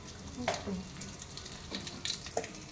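Hot oil with a spice tempering sizzles and crackles steadily, with a few sharper pops and spatters standing out near the microphone.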